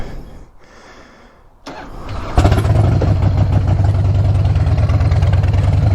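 A motorcycle that has sat unused since Monday cranks briefly, then fires up and settles into a loud, steady close idle, with some handling noise before it starts and no talking.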